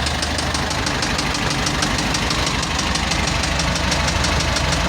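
The Cummins diesel engine of a Foton Tornado truck, damaged from running low on oil, knocks at idle with a loud, steady, rapid metallic ticking over a constant engine drone, close up, without talk.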